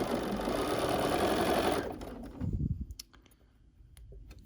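Sewing machine stitching 1.5-inch quilt strips together with a quarter-inch seam, a steady close whirring hum for about two seconds that then stops, leaving soft handling clicks and faint rustling.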